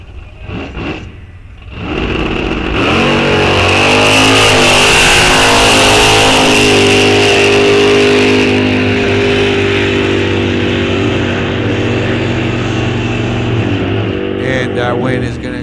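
At a drag strip test-and-tune, a Plymouth Belvedere and a Ford Mustang launch and accelerate hard down the track, a loud sustained roar of revving engines rising and holding for many seconds before fading, with brief background talk near the start.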